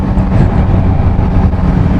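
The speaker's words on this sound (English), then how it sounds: "So yeah, it's an inline 3, this engine" An inline three-cylinder motorcycle engine running, a loud, close, continuous low throbbing rumble with slight wind buffeting on the microphone.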